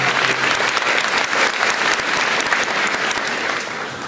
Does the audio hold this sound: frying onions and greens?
no